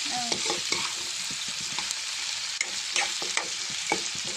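Pork frying in a pan without oil, cooked Assamese style, sizzles steadily while a utensil scrapes and stirs it in quick irregular strokes, close and fairly loud, with no talking.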